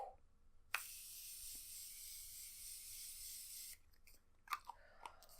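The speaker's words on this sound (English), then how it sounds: "I have to do setting spray" Setting spray mists onto a face in one long continuous hiss lasting about three seconds, close and steady, then cuts off, followed by a few faint handling clicks.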